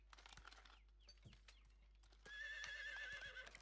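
In Medieval Dynasty, a horse's hooves clop in scattered soft steps before a loud whinny rises and carries through the final second, all fairly quiet and with no one speaking.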